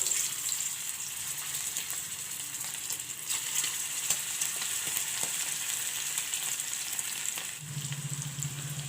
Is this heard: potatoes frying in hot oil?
yes